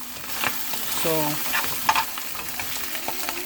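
Washed canned corned beef fries in a pan with a steady, moderate sizzle, stirred with a few soft scrapes, as someone briefly speaks over it.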